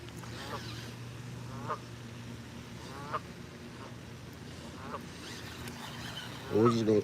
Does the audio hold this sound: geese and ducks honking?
yes